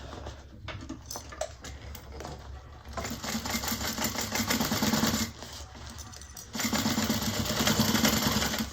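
Sewing machine top stitching a bag through heavy stabilizer, a close steady mechanical whir that runs in bursts and pauses, then picks up again louder and faster.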